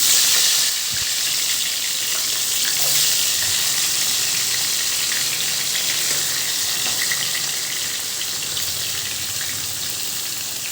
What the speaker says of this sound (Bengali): কড়াইতে বসিয়ে যখন তেলটা গরম হয়ে যাবে, তখন একে একে মাছগুলো ছাড়তে হবে